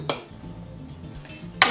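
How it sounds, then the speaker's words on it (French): A utensil knocks and scrapes against a mixing bowl while stirring marble cake batter after the last of the flour goes in, with a sharp clink at the start, a soft steady scraping, and another bright clatter at the end. "On vient mélanger jusqu'à que la pâte soit homogène"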